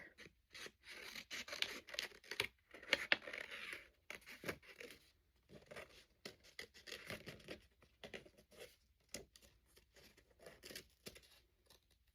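Scissors snip through paper during a Toy Story craft, giving soft, faint, irregular cuts and rustles spread across the stretch with short pauses between them.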